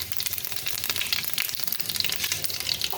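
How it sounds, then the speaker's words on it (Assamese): Cumin and five-spice seeds frying in hot oil for a sweet mango pickle, a dense, crackling sizzle with rapid popping that stays steady throughout, no voices. "এয়া জিৰাখিনি দি দিছোঁ"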